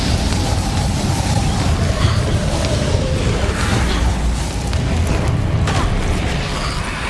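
Bombarda spell blasts in Hogwarts Legacy as a loud, dense roar of booming impacts and rumbling debris, continuous and close, with other spell effects layered in.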